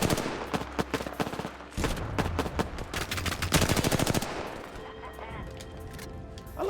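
Rapid bursts of automatic gunfire in the battle-royale shooter Apex Legends: loud, close bursts of rattling shots, separated by brief pauses, over continuous game noise.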